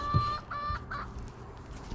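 Backyard hens cluck nearby in short, soft, throaty bursts, a few clustered calls, some with a rising tone, over light background noise.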